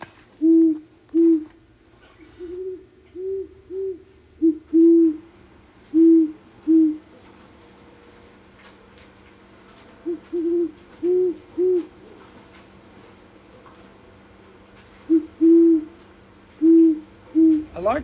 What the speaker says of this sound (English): this is the great horned owl